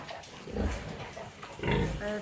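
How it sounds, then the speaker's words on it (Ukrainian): Two sows on a pig farm grunt in low, short bursts, with a couple of louder grunts and snorts close by amid background barn noise. "Це дві свиноматки, яких треба буде переганяти у відділ е, на опорос."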